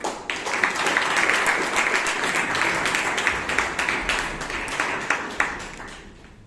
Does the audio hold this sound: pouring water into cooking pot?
no